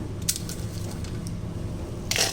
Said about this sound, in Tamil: இப்போ இந்த வரமிளகாவை மிக்சி ஜாரில் போட்டுக்கலாம்